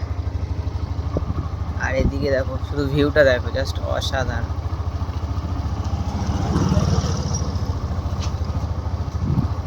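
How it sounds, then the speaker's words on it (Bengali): A motorbike ridden one-handed along a village path beside flooded jute fields gives a low, continuous engine drone, with someone talking over it throughout. "এক হাতে চালাচ্ছি আমি বাইকটা"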